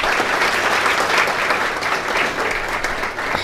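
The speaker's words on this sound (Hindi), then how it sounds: "तालियां बजाएं" An audience at a book release ceremony for a book on the art of judgment writing claps steadily and loudly throughout, as a dense, sustained round of applause filling the room.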